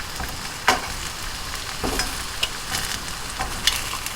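Asparagus cooking in a pan, with a steady close sizzle and occasional scraping stirs and clinks of a utensil at irregular intervals, no talking.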